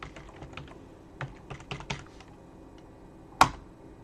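Keys on a computer keyboard are pressed one after another to enter a password, a series of soft, close, irregular clicks followed after a pause by one sharp, louder keystroke.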